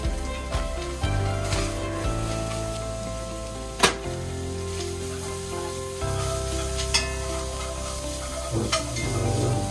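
Meat sizzles and crackles in a hot pan with occasional scraping stirs and clinks, a steady close frying hiss throughout.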